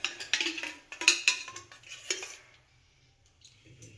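Ghee goes into a pan for thecha paratha with a metal spoon, making a quick run of bright clinks and scrapes against the pan, then fading to near quiet with faint sizzling.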